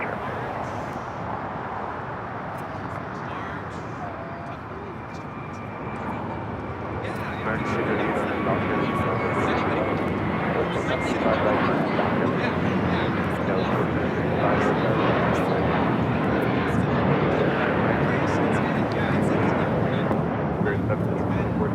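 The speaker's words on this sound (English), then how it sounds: "Next takeoff is the flight heading to JFK. JetBlue Flight 424. It's an A321." A JetBlue Airbus A321 takes off at Los Angeles International Airport, bound for JFK, its broad engine roar stepping up sharply a third of the way in and then holding loud and steady to the end.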